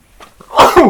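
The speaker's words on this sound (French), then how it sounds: "je vais éternuer" A single loud, close sneeze bursting out after a brief quiet intake of breath.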